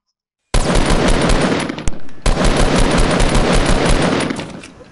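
Rapid automatic gunfire in a video game, loud and close, two sustained bursts split by a brief gap near the start, firing almost continuously before tapering off.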